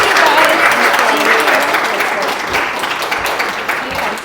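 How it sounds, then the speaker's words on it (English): An audience at a community panel event in Barrie applauds the guests, with continuous broadband clapping from the crowd that is loud at first and gradually thins toward the end. "a round of applause for our guests"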